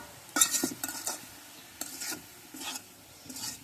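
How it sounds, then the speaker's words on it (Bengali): Kolai greens are stirred in a pan with a utensil, giving a run of short, close scraping and rustling strokes in an uneven rhythm over a quiet background. "এখন শাকটি নাড়াচাড়া দিয়ে একটু তেল দিয়ে"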